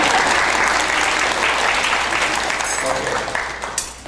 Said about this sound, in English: And now people are usually clapping.